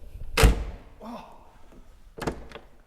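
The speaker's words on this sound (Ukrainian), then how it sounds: "Дверка ти відкриваєш." An old chrome-trimmed car door opens with a sharp, loud latch thunk, followed by softer creaks and a second double clunk near the end, all heard close up with no talking.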